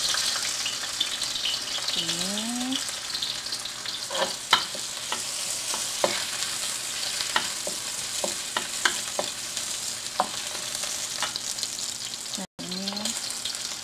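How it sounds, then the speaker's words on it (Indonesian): Shallots, garlic, galangal and lemongrass sauté in a pan with a steady, close sizzle, broken by repeated scraping stirs and clicks, with a brief voice at moments. "ini kita mulai menumisnya ini dulu ya teman-teman, bawang merah, bawang putih sama lengkuas sama serainya"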